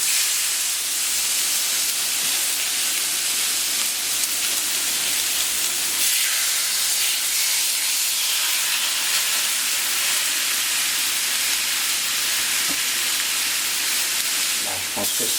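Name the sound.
meat sizzling on a hot griddle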